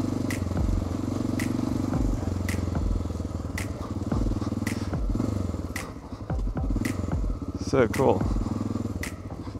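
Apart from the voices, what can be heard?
Honda motorcycle riding off-road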